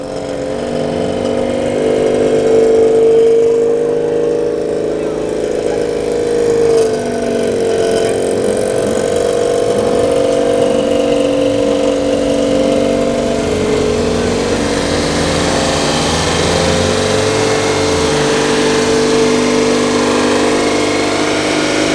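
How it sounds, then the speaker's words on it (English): A racing Citroen 2CV engine idles and warms up in a race paddock, a steady, loud mechanical drone that keeps up throughout with slight rises in revs. "One of the racing 2CVs over here is warming up."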